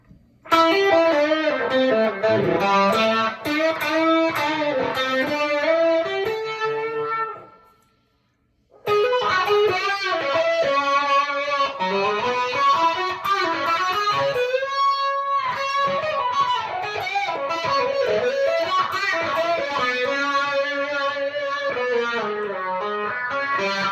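Electric guitar runs through stacked fuzz and three overdrives into a slightly distorted amp, with a vibe modulation effect switched on: thick, sustained distorted chords and lead lines playing loudly and continuously, with one brief gap partway through.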